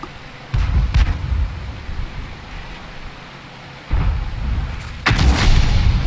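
Tank cannon fire destroying an enemy vehicle in the video game World of Tanks: heavy booming blasts with rumbling decay, several loud bursts spread across a few seconds over a low noisy background.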